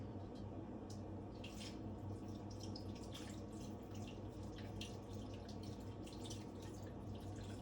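Wine is poured over a roast before a long slow cook, a steady, soft liquid stream running without a break and with no talk over it.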